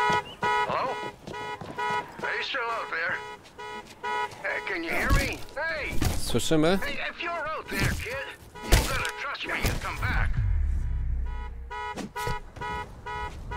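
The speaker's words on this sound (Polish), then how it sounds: "najgorsza decyzja to odpalenie tego alarmu" A car alarm blares in the Dead Island 2 video game, a loud repeating electronic tone pattern mixed with thuds, growls and other game sounds, while someone talks over it.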